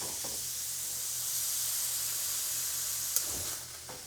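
Shrimp in a pan with tequila added for flambé give off a steady, broad hiss, faint and even, with a sharp clack near the end as the sizzle eases slightly. No voices.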